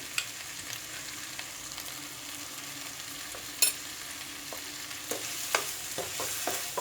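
Tomato sautéing in a pan for a potato and capsicum dry curry, a soft steady sizzle with a few sharp stirring clicks near the end, close and fairly quiet with no talking.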